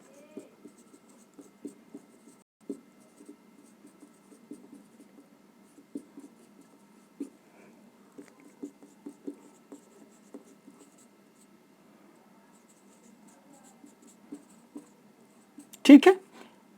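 Chalk or marker strokes on a board during a Hindi grammar lesson, a steady run of faint, quiet scratching taps over about fifteen seconds, ending in one brief louder clatter.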